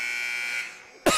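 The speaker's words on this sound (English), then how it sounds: "That is an obnoxious buzzer." Game clock buzzer at a men's college basketball game, Montana Western vs. Providence, a loud steady electronic tone held for about half a second before cutting off, followed by a brief thump.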